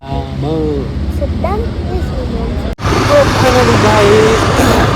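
Steady road roar from a new motorbike riding on a road, with wind rush, growing louder and rougher after a brief dropout; faint birdsong in the background.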